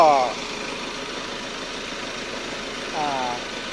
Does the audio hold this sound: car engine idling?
yes